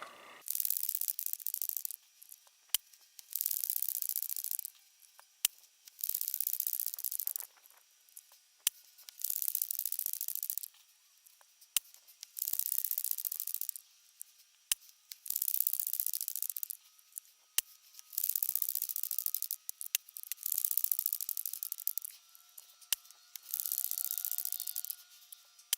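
A Crosman 1322 air pistol with a stuffed piston is pumped over and over, giving a steady run of rasping, hissing strokes about two seconds apart, each broken by short clicks, close and clear with no voices.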